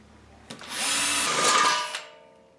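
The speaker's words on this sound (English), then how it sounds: "We'll drill a pilot hole with this thing here" A power drill whines up to speed and bores a pilot hole in a steel gas tank steadily for about a second and a half, then winds down and stops.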